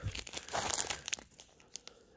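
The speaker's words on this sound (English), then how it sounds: "took the scissors quickly and cut the tape off the bubble wrap." Crinkly plastic bubble wrap being pulled and peeled off a boxed merchandise item, in close, irregular bursts of crumpling and tearing that thin out to a few soft rustles by the end.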